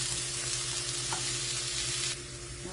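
Mushrooms sauté in a pan over medium heat, producing a steady, dense sizzle close by that drops slightly in level near the end, with a low background hum and no speech.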